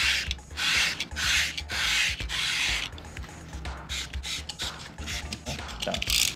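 A melamine magic sponge block being cut for leather edge finishing, giving repeated close rasping, rubbing strokes in uneven bursts with short pauses between them and no talk.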